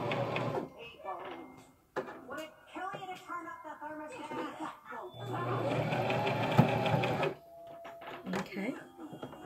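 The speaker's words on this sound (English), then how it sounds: "you're going to sew your clothing closed" Sewing machine stitching closed the sides of a homemade two-piece outfit with elastic, running in short bursts and a longer steady stretch, near and moderately loud, with speech and tonal sounds layered over it.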